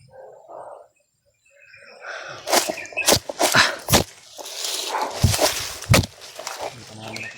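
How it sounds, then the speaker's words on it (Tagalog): Big dogs bark in sharp separate bursts outdoors, several loud barks in an irregular run with a brief whimper and faint chirping beneath. "Bang malalaki yung mga aso nila mga tolo."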